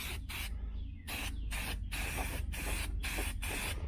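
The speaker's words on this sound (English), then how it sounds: "I'm gonna go ahead and paint this paint and primer, ultra matte, Walmart stuff" Ultra matte paint and primer hissing from a spray can in repeated short bursts with brief gaps, close and steady, while coating a 1981 Silverado radiator support.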